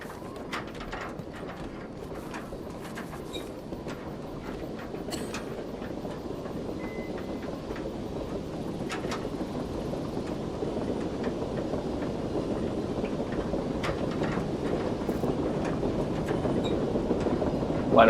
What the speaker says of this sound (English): Why do I hear a train?